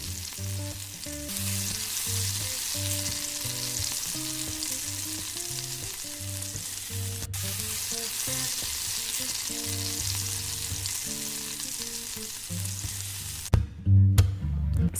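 Sausages frying in a pan, a loud, continuous close sizzle and crackle that runs almost the whole time, ending in a few brief bumps of handling.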